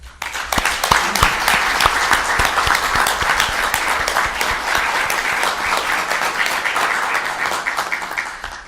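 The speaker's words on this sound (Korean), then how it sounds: "서로서로에게 고생했다, 더 잘하자 라는 의미로 격려의 박수를 쳐줍시다" Warm round of applause from Blue House staff at a year-end senior secretaries' meeting, dense, fairly loud clapping that swells quickly and holds steady before tapering off at the end.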